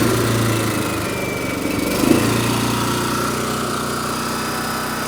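A Champion open-frame inverter generator runs steadily at high idle with the choke pushed in, a constant droning hum with a brief bump midway, fairly loud and close.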